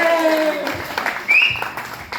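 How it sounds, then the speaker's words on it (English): Audience members in a comedy club clap as a comedian walks on stage. The applause is moderate and continuous, with some voices mixed in. "Keep clapping, keep clapping, keep clapping when she goes to the stage."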